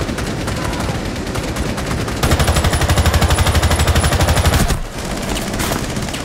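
Automatic gunfire in Rainbow Six Siege on a yacht map, loud and close: a long, rapid burst of evenly spaced shots runs for over two seconds, set among continuous dense game noise and further firing.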